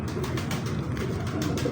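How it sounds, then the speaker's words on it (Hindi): A pigeon coos nearby in soft, low, repeated throaty pulses over a steady rustling background. "बहुत लाजवाब कबूतर है।"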